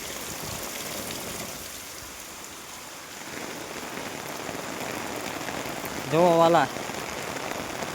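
Steady monsoon rain pours down in an even, hissing wash, with a voice speaking briefly partway through.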